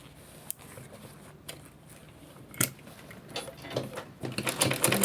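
A sewing machine top stitches a purse organizer bag: quiet mechanical ticking and handling clicks at first, building toward a faster, louder run of stitching near the end, close by with no talking.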